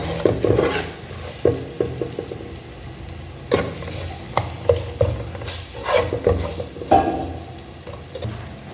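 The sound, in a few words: spices frying and stirred in oil for fish curry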